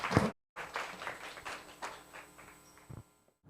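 Audience clapping at a Korean literature forum, a brief burst of applause after a short pause that thins and fades within a few seconds, with a faint hum underneath.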